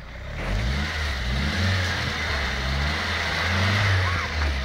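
A Golf GTI 1.8 Turbo stuck in snow with wheels spinning: a continuous engine rev that rises and falls over a broad hiss of wheelspin, close and steady, with people talking over it.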